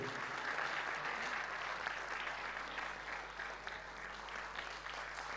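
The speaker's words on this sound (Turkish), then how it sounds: "alkışlıyoruz" An audience at a piano recital applauds steadily, a dense wash of clapping that holds at an even level throughout.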